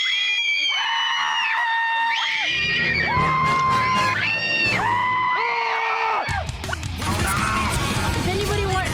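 Several people scream together in a staged screaming match, loud sustained overlapping shrieks and yells that rise and fall in pitch, with a brief crashing burst near the end.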